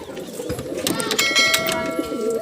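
Pigeons coo softly and repeatedly inside a pigeon loft, close and fairly clear, with some background bird noise and rustling.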